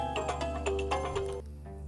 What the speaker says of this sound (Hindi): मोहन बाबू का फोन